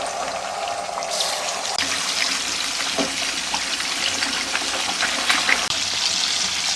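Chicken pieces rubbed with salt fry in hot oil in a pan, a continuous hissing sizzle with occasional crackles and clatter, close by and with no talk.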